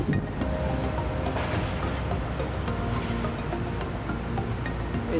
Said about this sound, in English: now we're just gonna refill the radiator, see what happens